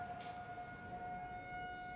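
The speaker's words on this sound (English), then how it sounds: "It can be frightening to hear the sirens go off" A tornado warning siren at KU, a steady droning civil defense wail held on one pitch, heard faintly from a distance with no voices.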